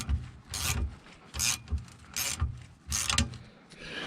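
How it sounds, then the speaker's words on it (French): Hose clamps being tightened by hand on a 1967 Toyota Corona RT40, heard as four or five short rasping, ratchet-like bursts spaced about a second apart, close and fairly quiet. "je vais serrer mes deux colliers ici, à chaque bout"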